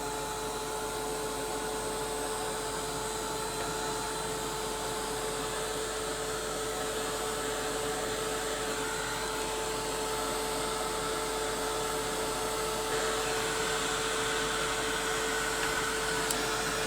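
A hair dryer blows steadily close by, drying Kingfisher Blue metallic paint on a journal cover, a constant airy roar with a fixed motor hum that runs unbroken and alone throughout.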